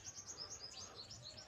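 Sparrows chirp in a quick, repeated series of high, bright tweets, faint and somewhat distant over a low background hum, with no voices.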